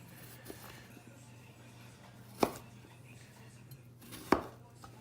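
A sharp knife slicing the skin off a piece of ginger, heard as two distinct knife strikes against a board, close and moderately loud over a quiet background hum.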